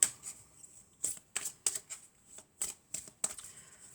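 Tarot cards being shuffled by hand in a series of crisp, papery riffles and slaps, with irregular bursts spaced across a few seconds and no talking.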